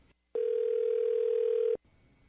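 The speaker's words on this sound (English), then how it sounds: "The phone's ringing." A single steady telephone tone sounds for over a second on a radio show, clean and loud against near silence, then cuts off abruptly.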